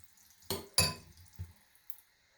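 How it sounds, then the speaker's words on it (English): A utensil clinks against a bowl while small amounts of water are stirred into turmeric paste for a face mask: a few sharp, close knocks spaced unevenly, with quiet gaps between them. "add small amounts of water, and you just do that as you go, and just stir it until it forms into a paste"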